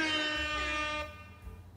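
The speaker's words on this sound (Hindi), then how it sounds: "जैसे मैं अगर हॉर्न सुनाऊं" A loud, sustained electronic horn blast with rich harmonics from a JBL PartyBox 110 speaker, cutting off abruptly after about a second, followed by a faint low rumble.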